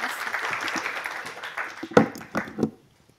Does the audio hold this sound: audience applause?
yes